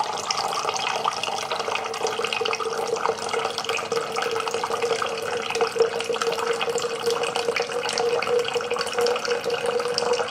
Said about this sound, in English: Now it's gonna drain that water out that we just put in there earlier.